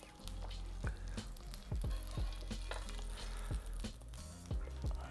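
A thick salmon fillet fries in a pan with a steady, close sizzle and crackle, broken by brief sharper bursts and a low humming drone underneath, with no talking.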